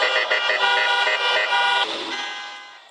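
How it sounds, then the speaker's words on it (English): Car horns blare continuously in traffic during a protest in Lansing, Michigan, several tones overlapping in a sustained, loud honking chorus that thins toward the end. "Blocking traffic, honking their horns to protest some of the strictest rules in the country."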